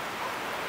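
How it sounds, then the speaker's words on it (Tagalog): Heavy rain pours down in a dense, steady hiss, loud and continuous, at a house in the Philippines, with no voices over it. "Sakto gid umulan dito at malakas yung ulan"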